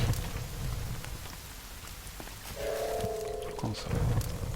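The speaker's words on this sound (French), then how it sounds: "Puis la pluie, ça n'arrange rien là," Rain falls steadily in a forest in the survival video game The Forest, a dense hiss with scattered drops, joined midway by a brief tonal in-game sound and a low thud; someone talks faintly over it.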